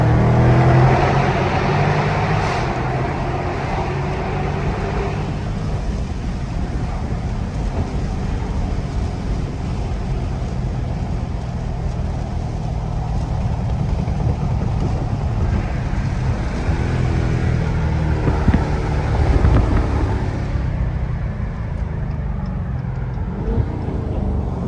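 City traffic heard from inside a widebody Dodge Charger Scat Pack, a steady low engine rumble and road noise with passing-vehicle swells, continuous and fairly loud, quieting near the end.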